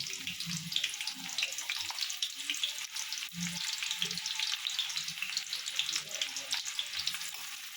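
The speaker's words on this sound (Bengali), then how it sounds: "পেঁয়াজটা ভাজার জন্য পেঁয়াজ দিয়ে দেবো।" Onions frying in a little hot oil in a pan, a continuous bright sizzle with soft stirring knocks throughout, close and moderately loud.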